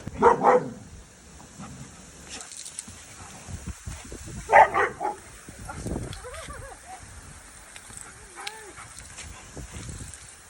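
Several dogs in a household pack, including a newly arrived Tibetan Mastiff, bark in loud scattered bursts with whimpers and playful scuffling, mostly nearby with quieter stretches in between.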